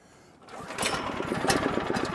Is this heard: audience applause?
no